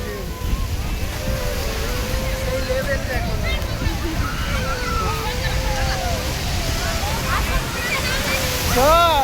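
Sea surf at Puri beach rolls in as a loud, continuous wash of breaking waves close by. Voices and shouts carry over the roar, with a louder surge at the end.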